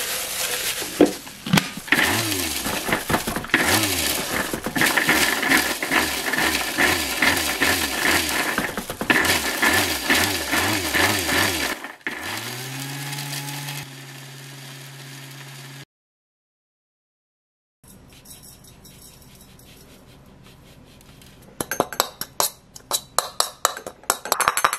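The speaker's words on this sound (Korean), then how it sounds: "이거는 믹서기에다가 갈아서 향신료 가루를 만들어 놓을 겁니다" An electric blender grinds dried jepi (Korean pepper) leaves into spice powder, a loud whirring motor pulsing in bursts, then a steady hum, a pause of silence, and rattling clinks as it starts again.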